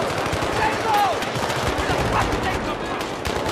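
Semi-automatic rifle fire in the Battlefield 3 campaign, a rapid run of loud, close shots over game ambience.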